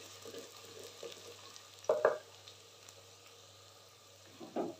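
Chicken and potato qeema cooking in a pan, giving a faint, steady sizzle broken by a couple of short clatters from stirring.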